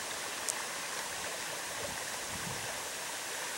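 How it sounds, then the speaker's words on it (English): Babbling brook trickles and gurgles steadily, a soft, even wash of running water heard alone and fairly faint. "Babbling Brook."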